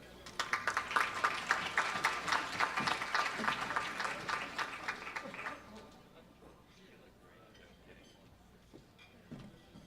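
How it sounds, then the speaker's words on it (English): Applause from a gala audience at a library foundation fundraiser, a dense, loud wash of many hands clapping for about five seconds before thinning into scattered claps and murmuring voices. "Another round of applause for our wonderful city librarian"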